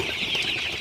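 Broiler chickens on a farm give off a steady, dense clucking and chirping chorus, close and continuous for under a second, with no talk.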